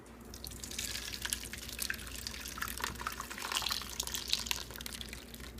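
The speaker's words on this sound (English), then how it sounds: "we are going to pour the chili into the strainer" Chili sauce is poured through a strainer onto drained chicken in a kitchen, giving a faint, steady liquid trickle with small drips and splashes, quiet and close, with no talking.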